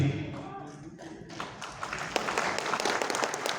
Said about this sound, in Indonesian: Tepuk tangan untuk Bung Peri.